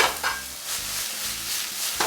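Prawns stir-frying in a hot wok for egg fried rice, with a steady roaring sizzle and scraping tosses at the start and end, close and fairly loud with no talk.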